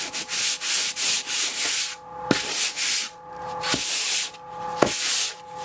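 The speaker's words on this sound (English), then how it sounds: "and just sand that down" Sandpaper wrapped around a block of wood sands dried wall filler on a wall repair in quick, rhythmic back-and-forth scrubbing strokes, close and loud, with a few sharp knocks between passes.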